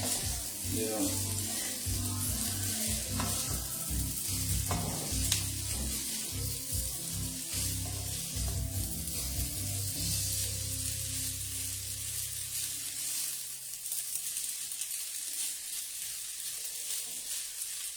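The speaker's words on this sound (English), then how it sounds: "that's how you create your nice stir fry" Stir-fry sizzling in a pan during a home cooking session, a continuous bright hiss with irregular crackles and clatter of stirring, steady throughout with the low rumble fading toward the end.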